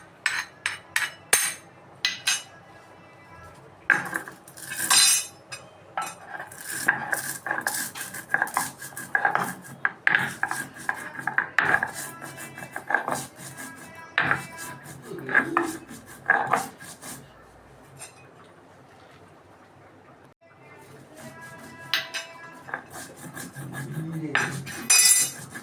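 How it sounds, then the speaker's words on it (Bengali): Spices being ground on a shil nora, a flat stone slab with a stone pestle, giving repeated close scraping, rubbing and knocking strokes in uneven bursts with short pauses between. "এগুলো আমি একটু শিল নোড়াতে বেটে নেব"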